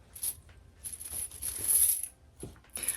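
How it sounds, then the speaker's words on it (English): Metal chain strap of a Schiaparelli handbag handled up close, giving a series of light, bright jingling clinks in several short bursts with brief pauses. "Let me show you the chain."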